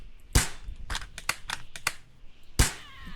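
Gunfire in The Long Drive video game: a handful of sharp, dry cracks, two louder shots bracketing a quick cluster of lighter pops, close and crisp with no talk.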